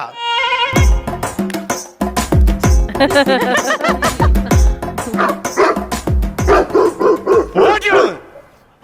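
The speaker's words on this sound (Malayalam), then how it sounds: "പട്ടി എന്തിനു കുറയ്ക്കണത്" A dog barks repeatedly in sharp bursts, mixed with whimpering yips, while people talk loudly over and between the barks.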